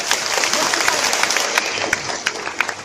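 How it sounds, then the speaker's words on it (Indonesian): An audience at an Islamic sermon gathering breaks into applause, a steady patter of many hands with a few sharper individual claps standing out as it tapers off. "Tepuk tangan sekali"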